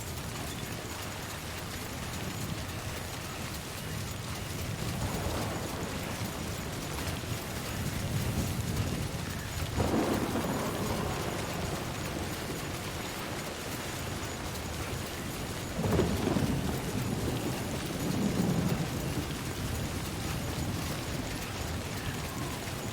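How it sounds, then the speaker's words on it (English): A big storm in a video game on Very Hard difficulty, heard as continuous rain-like noise with low rumbling swells and a couple of sharper crackling bursts around the middle and later on, with no voices. "So another big storm."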